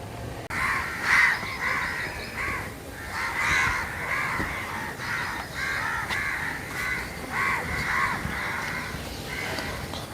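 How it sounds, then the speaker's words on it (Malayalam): Several crows caw loudly and repeatedly outdoors, harsh overlapping calls coming in clusters over faint background noise. "വിടാന്ന് വെച്ചപ്പോഴത്തേക്ക് മൊത്തം കാക്കയുടെ ബഹളം"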